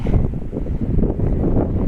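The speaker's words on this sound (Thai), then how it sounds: "ลมแรงมากอย่างที่เห็นหัวเหอกระเจิดกระเจิงเลยนะฮะเนี่ยตอนนี้" Strong wind buffets the microphone at a scenic evening viewpoint in Chanthaburi, Thailand, a loud continuous low rumble with gusty swells and no speech.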